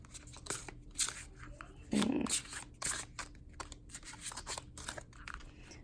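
A deck of cards being shuffled, with riffling bursts and soft slaps, close up, mixed with some quiet talking.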